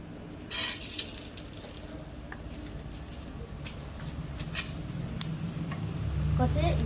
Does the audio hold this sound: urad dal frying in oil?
yes